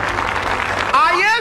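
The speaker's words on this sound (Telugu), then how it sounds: "గట్టిగా చప్పట్లు కొడదాం." Loud crowd applause at a Telugu Christian gathering, a dense steady wash of many hands clapping throughout, with a sharp cheer or whistle rising near the end.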